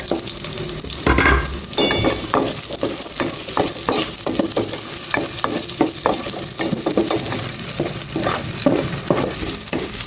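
Onions sautéing in a frying pan for a pork dish, with a continuous close sizzle and repeated scraping and stirring strokes of a utensil, no talk.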